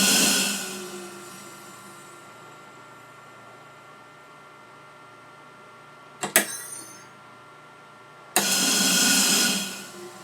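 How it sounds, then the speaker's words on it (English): Short sharp bursts of compressed air hiss into a lysis chamber during a bioprep process, a brief double puff midway and a longer loud rush near the end over a steady machine hum. "Another blast of air."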